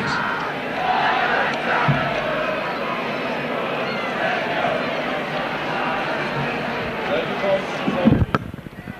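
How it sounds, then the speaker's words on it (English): A stadium crowd of Featherstone Rovers rugby league supporters roars and cheers at a Wigan play-off quarter-final, a broad sustained wash of voices with a commentator talking over it and a sharp burst near the end. "Big cheer from the Rovers supporters."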